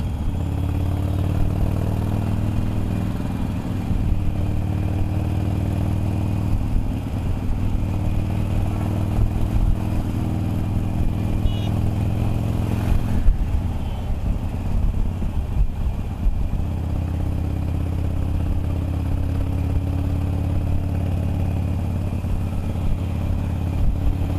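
A motorcycle fitted with Vance & Hines slip-on exhausts idles with a deep, steady burbling rumble heard close and alone, holding evenly with a slight rough patch midway.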